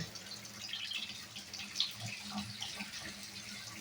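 Water runs steadily from a tap with small splashes and drips as a child is washed, fairly close, with no talking.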